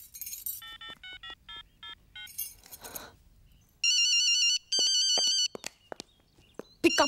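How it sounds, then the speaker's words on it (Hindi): A telephone ringtone rings repeatedly and goes unanswered, bursts of electronic tones with short gaps between them, then louder sustained warbling rings and a few sharp clicks near the end, with no voices. "pick up the dam phone"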